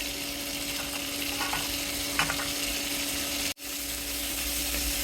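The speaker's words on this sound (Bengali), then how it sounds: "ভেজে নেব আলু আর চিংড়ি" Potatoes and prawns frying in a pan, a steady bright sizzle of hot oil that runs continuously, with a few faint stirring clicks and a brief dropout near the end.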